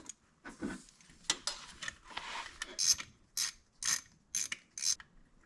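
A ratchet working loose an intake manifold bolt on a Volkswagen Jetta TDI, giving several bursts of rapid clicking with short pauses between them, close and moderately quiet, with no speech.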